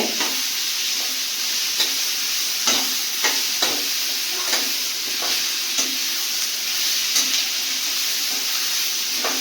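Onion chicken curry with ginger-garlic paste cooks in a pan under a steady soft sizzle, while a spoon scrapes and stirs in regular strokes, giving a series of light clicks and scrapes at moderate volume.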